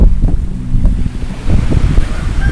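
Water splashes steadily against the hull of a small boat at sea, a loud, continuous sloshing mixed with wind rumble close to the microphone.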